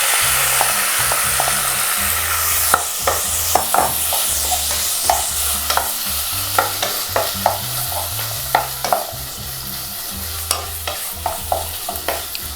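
Chicken frying in a pan for spicy red Thai noodles. Loud, close sizzling runs under frequent, rhythmic scraping stirs of a spatula against the pan, with no speech.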